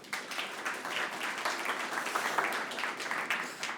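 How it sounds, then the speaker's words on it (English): Sustained audience applause at a PyData Amsterdam 2025 conference talk, a dense steady wash of many hands clapping for several seconds without talk over it. "So please give a round of applause for him."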